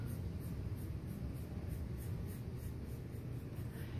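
A pencil scribbles and cross-hatches on paper in a soft, scratchy series of quick rhythmic strokes, faint and close with no talking.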